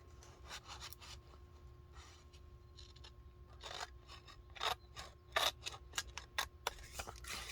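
Scissors snipping through paper to cut a craft pocket, a run of short crisp cuts that quicken and grow louder toward the end, close up with a faint background hum.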